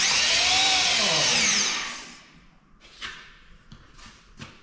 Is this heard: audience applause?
no